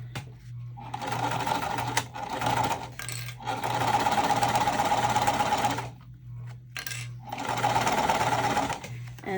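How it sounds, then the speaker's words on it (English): A sewing machine fitted with a zipper foot stitches a zipper onto a water-resistant canvas tote at a 3/8 inch seam allowance, running in three steady bursts with short pauses between them. "And I am sewing that at 3/8 inch seam allowance."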